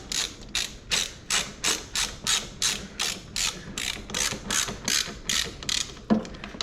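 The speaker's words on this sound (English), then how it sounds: "Get this bolt started." Ratchet wrench clicking as a bolt is tightened during assembly of a Kangook Amaruk XD scooter fitted with a Polini Thor 202, about a dozen regular back-and-forth ratcheting strokes, close and clear, with no talking.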